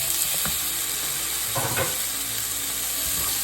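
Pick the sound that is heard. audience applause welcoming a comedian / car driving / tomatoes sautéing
tomatoes sautéing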